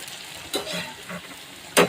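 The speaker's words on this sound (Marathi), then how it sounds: "तर मी पूर्ण भजा आता अशाच तळून घेणार आहे" Bhaji fritters deep-frying in hot oil for a traditional festival offering, a soft continuous bubbling sizzle with a few scrapes and a sharp clatter of a slotted spoon near the end, close by, no talking.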